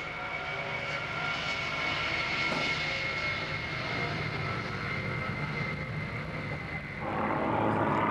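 A Lockheed C-5 Galaxy transport aircraft flies past at an air show, its jet engines giving a loud, continuous roar that swells slightly near the end.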